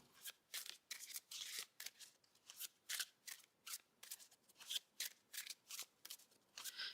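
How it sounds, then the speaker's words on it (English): A Supra deck of playing cards is riffled and shuffled repeatedly in quick, crisp bursts with a steady rhythm, close and fairly quiet, with no talking. "I'm going to give it a quick little shuffle."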